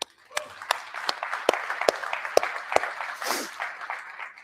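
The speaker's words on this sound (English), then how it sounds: "I sincerely think we should give Ted a round of applause." Applause from the audience at a real estate investors meetup: a fairly quiet crowd clapping with a few sharp, close claps standing out, then tapering off near the end.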